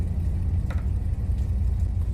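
The low, steady idle of an old Datsun 240Z in the Roblox game Greenville, a close continuous rumble with a faint short blip partway through and no voices.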